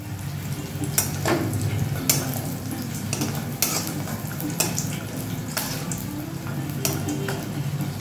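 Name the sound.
frying bori lentil dumplings in mustard oil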